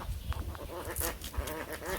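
Ducks quack in a quick, close series of nasal calls, several overlapping honks in a steady rhythm against a low background rumble.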